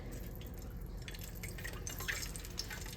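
Steady sizzling and crackling of hot frying oil with small pops as test drops of water hit it, continuous and close.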